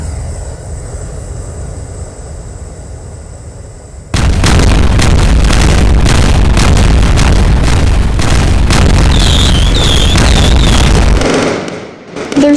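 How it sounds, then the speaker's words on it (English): A massive barrage of fireworks and exploding propane tanks bursts out after a quieter stretch, dense, loud and continuous crackling booms and pops with whistling rockets, cutting off abruptly near the end. "There's so much happening that the fireworks are glitching out."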